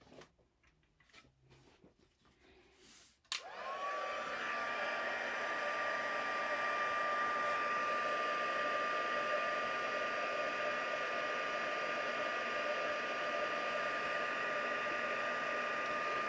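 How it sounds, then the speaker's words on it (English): Craft heat tool blowing hot air over a masking and stencilling project: a few faint handling clicks and rustles, then the tool switches on with a rising whine and a steady, close airy hiss. "we'll come in with our heat tool."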